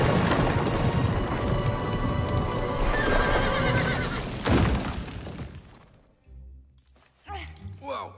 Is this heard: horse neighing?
yes